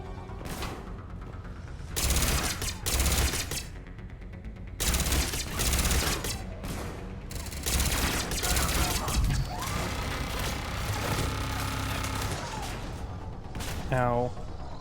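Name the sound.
turret firing in the video game Mass Effect 3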